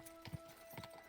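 A horse gallops in the medieval game Kingdom Come: Deliverance 2, with a few soft, faint hoof thuds spaced apart in a short burst and no other sound.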